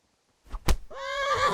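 In a video game, a couple of thuds are followed by a loud, wavering horse whinny that rises and rings out clearly.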